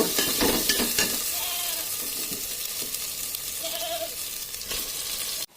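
Raw meat going into a pan of spice paste fried until the oil separates, a steady near sizzle and frying hiss with some stirring scrapes, alone without talk, for a Bengali meat curry cooked with soybean chunks.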